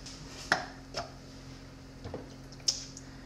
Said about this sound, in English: We're also gonna put this tomato in here after I chop the top off